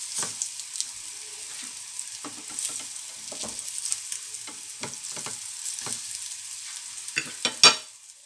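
Mahkouda with tuna frying in plenty of hot oil, a steady close sizzle broken by scattered crackles and pops and an occasional scrape, with a louder clatter near the end.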